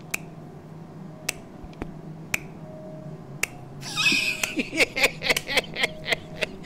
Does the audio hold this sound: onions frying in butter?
no